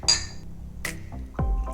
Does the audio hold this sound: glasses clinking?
yes